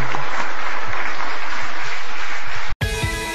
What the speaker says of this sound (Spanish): ¿Por qué no le damos un fuerte aplauso al Señor, a nuestro Rey precioso?